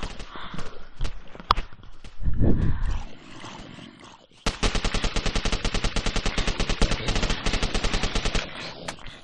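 Zombiecraft video game gunfire begins with scattered shots and thuds, then a long sustained machine gun burst of rapid, evenly spaced loud shots runs through the second half.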